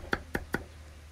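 Garlic is pounded by hand during Lunar New Year cooking, three sharp, evenly spaced knocks close by, with a quiet room behind them.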